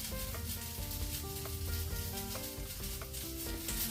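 Paneer pieces frying in a pan for chilli paneer, a steady close sizzle running throughout with no talk, overlaid by faint tonal music.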